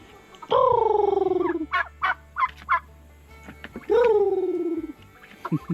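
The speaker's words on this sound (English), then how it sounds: "you got the turkey there" A turkey on a farm gobbles twice with long quavering calls, and short sharp squawks and clucks fall between them, all fairly close and loud, with no speech.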